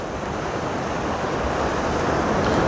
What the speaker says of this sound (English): The wind is blowing strongly, and it's not a warm wind.